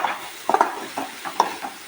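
Crab masala with ginger and garlic stirred in a pan: a few quick scraping strokes of a spoon against the pan over a soft sizzle, close by.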